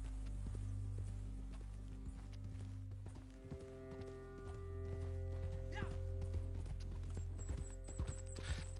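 Horse hooves clip-clop at a walking pace in a video game, a steady close rhythm over a low continuous music or ambient drone, with occasional louder steps and a brief high tone near the end.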